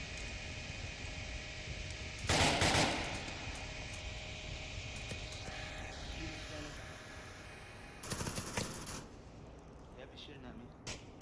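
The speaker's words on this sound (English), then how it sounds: "Yep, he's shooting at me." Gunfire in the VR shooter Onward, two short bursts of sharp shots, one loud and one quieter and farther off, over a low background hum with voices in between.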